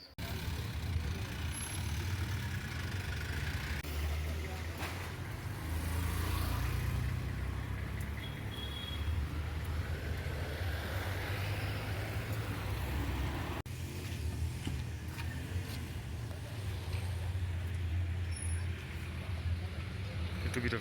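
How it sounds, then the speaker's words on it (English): Steady low rumble of idling car and truck engines in a traffic snarl on the outskirts of Gachie, Kenya, a continuous moderate drone with faint passing vehicle sounds and no clear talk. "Little bit of traffic snarl up."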